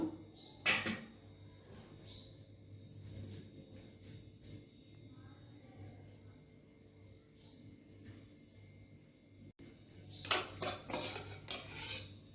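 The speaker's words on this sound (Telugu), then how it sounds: "నెయ్యి 2 స్పూన్లు వేసేసుకుంటున్నాను." A spoon clinks faintly against a pot while ghee goes into sago ragi payasam, with soft scattered metallic taps and scraping over quiet room noise.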